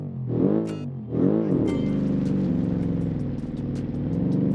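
A 1977 communist car's engine revs twice in quick rising blips, then settles into a sustained loud drone as it keeps running.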